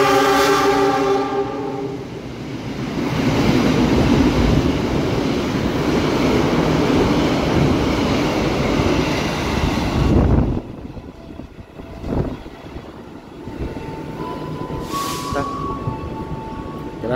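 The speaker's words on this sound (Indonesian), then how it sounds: "kereta api Argo Wilis tujuan akhir stasiun Surabaya Gubeng melintas langsung dan menyilang kereta api Lodaya" The Argo Wilis express train rushes past at Gombong station while the Lodaya train waits: a loud, steady roar of wheels and passing carriages, a horn at the start, then the roar drops to quieter rumbling and a brief tone.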